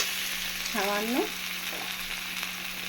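Chilli powder is stirred into a frying curry of rohu fish, taro and potato, with a constant close sizzle and a brief scraping stir partway through.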